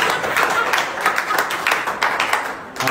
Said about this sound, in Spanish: Un aplauso al cabrón este.